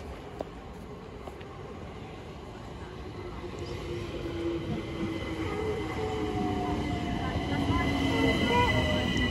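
A train runs along the rails with a rumbling roll that grows steadily louder, with faint wheel squeals and metallic tones over the clatter.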